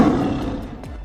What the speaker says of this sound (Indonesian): Harimau.